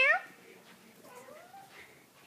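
A pregnant white female cat meowing, one short clear meow at the start followed by softer drawn-out cat vocalisations, close and fairly quiet.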